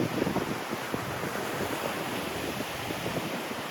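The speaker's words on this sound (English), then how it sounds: "it's a bit windy today" Wind blows across a Baltic beach on the Bay of Hel north of Gdansk, with a steady rush of wind on the microphone over the soft wash of surf.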